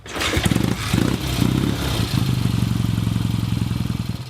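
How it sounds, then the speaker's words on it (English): Deep, throaty exhaust of a 1967 BSA Thunderbolt motorcycle, a few sharp revs giving way to a steady, close, loud thumping idle with a clattering pulse and no talk. "That deep-throated exhaust note of that bike is wonderful."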